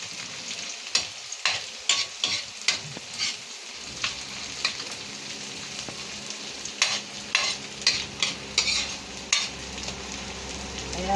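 Onions sautéing in a pan for chicken pastil, an ongoing sizzle punctuated by a rhythmic series of sharp spatula scrapes and knocks against the pan, close-up, with no one talking.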